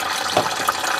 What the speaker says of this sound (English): Turn off the water.